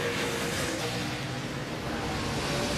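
NASCAR race cars roar past at full throttle, a loud, continuous engine howl with rising and falling pitch as the pack races hard, close and unbroken for about three seconds.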